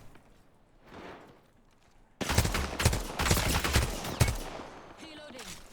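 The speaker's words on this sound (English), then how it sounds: "I am taking fire." Video game gunfire comes in as a sudden burst of rapid shots after a quiet start, rattling on for a few seconds at moderate loudness.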